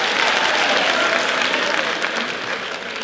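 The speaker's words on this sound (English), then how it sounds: "We also give them a clap." Sustained applause from an audience at a women's gathering in a Catholic University hall, dense steady clapping filling the whole stretch and fading slightly toward the end.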